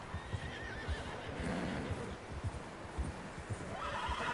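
A horse in the video game Red Dead Redemption 2 whinnies while its hooves clop steadily in a plodding rhythm, set against a constant wind-like ambient bed.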